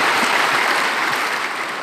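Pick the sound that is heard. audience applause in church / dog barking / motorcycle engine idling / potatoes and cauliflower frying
audience applause in church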